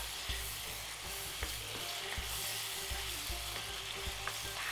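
Oil sizzles steadily in a pan for a Macedonian bean salad, a continuous crackling hiss with occasional sharper pops and faint clinks, alone without talk.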